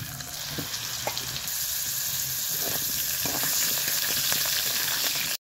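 Thick-cut potatoes land in hot oil seasoned with cumin, dried red chilli, bay leaf and a little nigella seed, setting off a loud, continuous sizzle with occasional stirring clatter up close, no talking.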